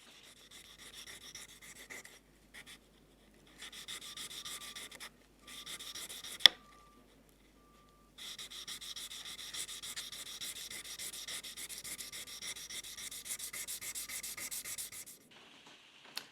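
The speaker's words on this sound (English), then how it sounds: "I polished the tab too, just so I could get the cam surfaces looking even all over." Abrasive paper rubs over metal parts of a Lie-Nielsen block plane in bursts of quick, close back-and-forth strokes, separated by short pauses and one sharp tap.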